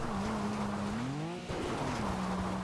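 A car in GTA 5 climbing uphill, its engine holding a steady tone that rises and falls as it revs, with a short dip midway, moderately quiet and with no talking.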